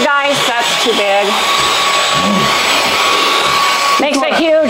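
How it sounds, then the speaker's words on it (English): A small Z-Star vacuum cleaner runs with a steady, loud whine throughout, while someone talks over it at the start and end. "This is the little Z-Star vacuum"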